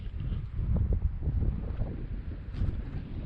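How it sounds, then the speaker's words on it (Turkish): Soft, steady light wind buffets the microphone outdoors on the sea coast at Marmaris, a low rumbling whoosh that rises and falls gently throughout. "Hafif bir rüzgar var"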